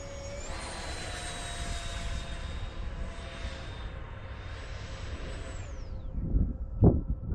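A 64mm electric ducted fan RC Viggen jet on 6S power whines overhead, its high tone rising and falling as it passes, then fades away near the end, followed by a few close thumps and rustles.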